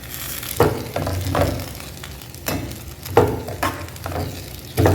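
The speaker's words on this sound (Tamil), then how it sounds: "லைட்டாக வதங்கட்டும்" Ingredients for mint chutney being sautéed in a pan on the stove, a steady sizzle broken by repeated stirring scrapes and clacks at close range, with no talking.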